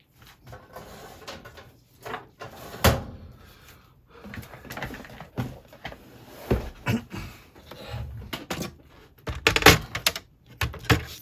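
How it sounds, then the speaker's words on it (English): A craft-room drawer is opened and rummaged through, giving a run of irregular clicks, knocks and sliding rattles at close range, with louder bumps scattered over about eleven seconds. "Go to the drawer."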